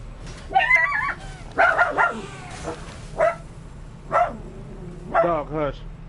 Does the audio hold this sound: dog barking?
yes